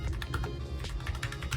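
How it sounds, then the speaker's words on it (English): Rapid, clattery keystrokes on a Redragon BS8773 wireless computer keyboard, a busy stream of close, crisp, typewriter-like taps with no voices. "The keyboard does have some noise to it. Kind of sounds like a typewriter."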